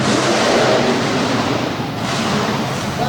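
The Stinger Unleashed monster truck from Lancaster roars at a monster truck show in Harrisburg, PA, its engine a loud, continuous, close revving blare with no voices over it.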